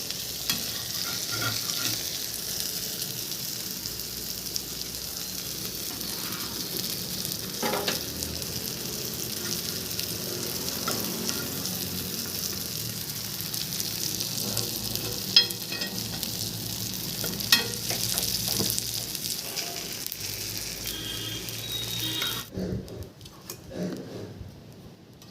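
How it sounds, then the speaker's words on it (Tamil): Fish frying in a pan gives a steady, close sizzle with occasional stirring clicks and scrapes throughout, then drops away near the end, with no talking. "இதை பாருங்கள், எல்லா மீனும் வெந்துடுச்சு. இப்போ வறுத்து எடுத்துட்டோம்."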